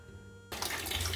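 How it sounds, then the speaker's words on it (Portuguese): Water from a kitchen tap runs into empty water bottles, starting abruptly after a quiet moment and then rushing steadily and close by. "Agora eu vou colocar as garrafas de água pra encher."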